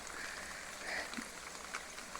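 Summer rain falls outside a house, a soft, steady patter of drops with faint scattered ticks, quiet and continuous with no voices.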